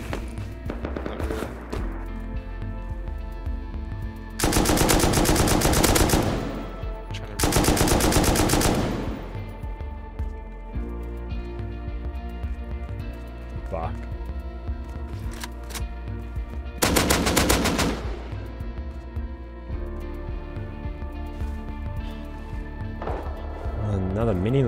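AK rifle fire in the survival game Rust comes in three loud, rapid automatic bursts, two close together early and one later, separated by quieter game ambience and occasional talk.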